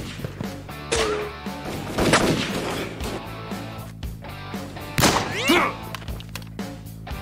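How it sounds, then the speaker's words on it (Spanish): Rifle gunfire in a Kinect video game, heard as two sharp, loud blasts a few seconds apart, each with a ringing tail, over a steady background hum and game noise. "Era un fusil."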